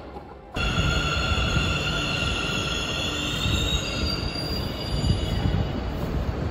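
A metro train passing loudly in Indiranagar, Bengaluru, starting abruptly: a continuous heavy rumble topped by sustained high-pitched wheel squeal.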